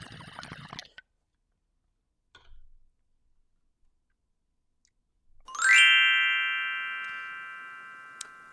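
A single glockenspiel note rings out bright and clear, then decays slowly over a few seconds. Faint earlier taps come before it, and a tiny tick sounds near the end.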